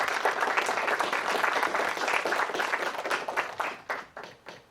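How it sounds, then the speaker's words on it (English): An audience claps after a presentation at an artist conversation, sustained applause holding steady before thinning out and fading into scattered claps near the end. "Let's have some applause for the presentation if people feel like that."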